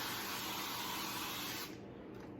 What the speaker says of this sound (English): I'm gonna spray a casserole dish with avocado oil here